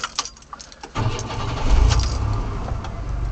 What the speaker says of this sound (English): When I start it up, it makes a clicking noise.